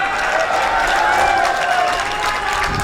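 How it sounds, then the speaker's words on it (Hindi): An audience at an Urdu mushaira (poetry gathering) claps in a dense, continuous burst that holds steady throughout, with a sustained tonal hum and some voice-like sound running underneath. "एक मर्तबा तालियां बजाने इसके लिए।"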